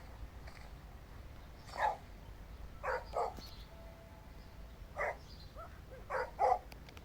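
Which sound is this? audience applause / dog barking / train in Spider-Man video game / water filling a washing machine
dog barking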